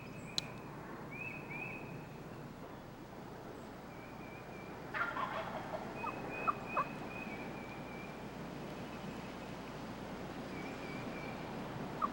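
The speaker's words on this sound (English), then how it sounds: "All of that gobbling is what brings the hens to him." A wild turkey gobbles a few times in the distance over a steady background hiss, the rattling calls short and spaced apart.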